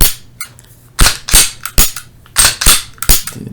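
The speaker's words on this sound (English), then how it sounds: "then we'll do a test dry fire" A Smith & Wesson M&P 9c pistol being dry fired after cleaning: a series of sharp, close metallic clicks and snaps of the slide and trigger, coming in quick uneven bursts with brief pauses between them.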